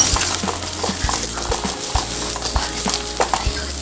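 Fried onions with ginger garlic paste and green chili are stirred in a pan for egg curry, with steady sizzling and repeated spoon scrapes and knocks against the metal, close and alone.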